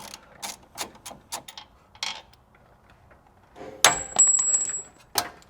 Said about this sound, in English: take a 19 millimeter socket and break loose the nut holding the lower strut mount